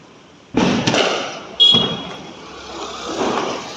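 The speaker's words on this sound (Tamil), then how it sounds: "ஹரி பட்டாசு வச்சுட்டா தீபாவளிக்கு." Two sharp firecracker bangs go off close by during Diwali celebrations, about a second apart, each leaving a crackling, fizzing tail.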